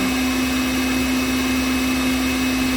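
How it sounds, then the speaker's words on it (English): An electric mixer whips heavy cream for rum and raisin ice cream, a steady, loud motor whine with a constant pitch and a rough, continuous whirr underneath, running without a break and with no talk. "I'm whipping the heavy cream."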